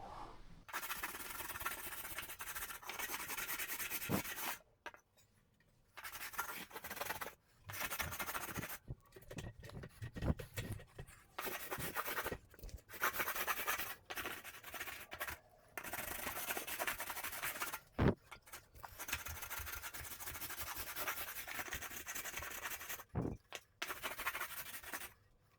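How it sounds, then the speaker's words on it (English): A hand rasp files across a drywall patch around an electrical receptacle, giving a steady, close scraping rasp in repeated strokes broken by short pauses. "this rasp kind of catches all the"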